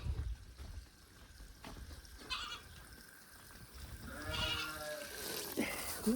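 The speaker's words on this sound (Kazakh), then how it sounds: "Мына қораның қасына келсең тек маңырай беретін олар" Goats bleat a few times at close range, outdoors, with trickling water and scattered rustling in the background.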